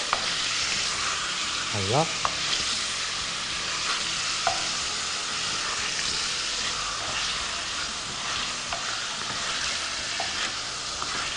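Chicken pieces fry and hiss in a pot for a cauliflower dish and get stirred, a continuous loud sizzle with occasional scraping strokes and a short spoken word over it.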